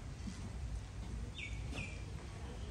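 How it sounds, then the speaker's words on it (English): Birds at a resort terrace give two brief, faint high chirps at a distance over a quiet, steady outdoor background hum. "Listen to the birds"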